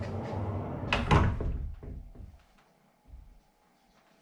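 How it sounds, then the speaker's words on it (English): A modern sliding barn door with a soft-close feature rolls along its track, bumping and settling near the start, then fades into quiet with a few faint knocks. "The soft close open feature is a little sticky, but it is really nice to have"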